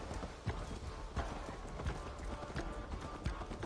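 A horse's hooves clop steadily and close in the video game Assassin's Creed Valhalla, a quick regular gait over a dense wash of outdoor game noise.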